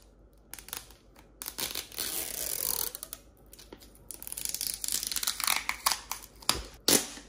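A zipper is pulled open on a Cry Babies toy package, with close crinkling and rasping plastic and a few sharp tearing bursts and clicks near the end, with no talking.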